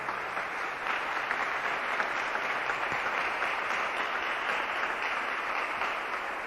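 A church congregation claps for Jesus in steady, even applause that holds at moderate volume throughout, with no voices standing out.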